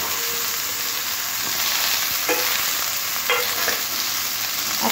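Eggplant, beans and potato fry together in a pan with a steady, loud sizzle, broken by a few scraping stirs.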